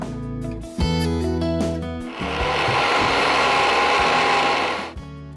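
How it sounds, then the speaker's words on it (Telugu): A mixer grinder purees cauliflower into paste, its loud steady whir starting in short pulses, then running continuously for several seconds before winding down. "సో ఇప్పుడు దీన్ని గ్రైండ్ చేసుకుందాం."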